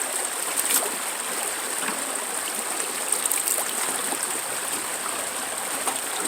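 Steady rushing water runs through a homemade gold sluice lined with gold hog mats, a continuous close trickle and wash with faint scattered splashes and no talk.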